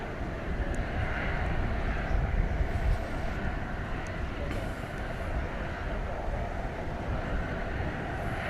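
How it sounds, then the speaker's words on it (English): A jet airplane taking off at DFW Airport, a continuous loud, deep engine roar that holds steady and swells slightly midway, heard from a distance outdoors. "It looks like we're in for another round of takeoffs."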